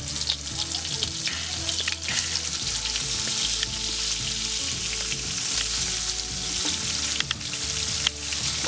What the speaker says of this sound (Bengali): মাছটা কিন্তু সুন্দর করে ভাজতে হবে।